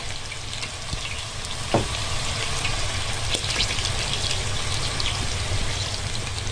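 Onion frying in a pan for a macaroni casserole, with a steady dense sizzle and occasional scraping stirs throughout.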